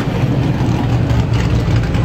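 Strictly stock cars race in a heat at Star Speedway, a loud continuous engine roar filling the whole stretch with no break.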